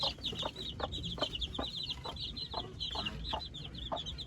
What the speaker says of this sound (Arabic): هذا ديك كويتي.